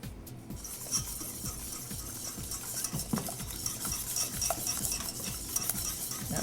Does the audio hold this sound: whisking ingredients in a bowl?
yes